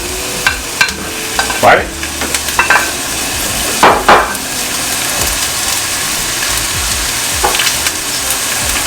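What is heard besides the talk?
onions and garlic sizzling as they're added to the pan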